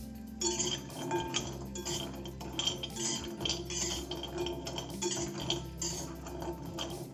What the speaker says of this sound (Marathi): याला आपण भाजून घेऊया।